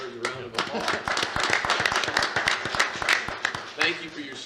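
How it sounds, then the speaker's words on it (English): A small group at a county commission meeting claps for a Solid Waste Department honoree, sparse distinct handclaps close by, mixed with talking throughout. "think I deserve a round of applause."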